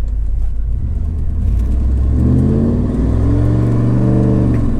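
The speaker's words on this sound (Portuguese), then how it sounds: "som de V8, meus amigos, tem que ter um V8 ainda, porque o som de V8 é um negócio absurdo de bom" A 1990s Chevrolet Camaro Z28 V8 rumbles loud and close, its deep engine note climbing steadily as it revs up, with no talking over it.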